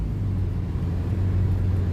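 A truck rolls along near the Ohio River, a steady, close, low engine rumble with a droning hum and no other sounds over it.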